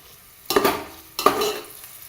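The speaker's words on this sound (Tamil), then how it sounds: "ஓகே, வெங்காயம் வதக்கிட்டீங்க" Onions sautéing in a pan for vegetable biryani, two loud scraping stirs of a spatula against the pan over a soft sizzle, close up, no voices.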